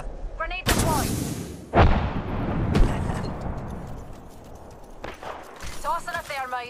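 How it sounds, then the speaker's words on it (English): Grenade blast in the game Apex Legends, a sharp boom at about one second followed by heavier rumbling impacts and gunfire, with game voice lines spoken before and after. "Grenade deployed!"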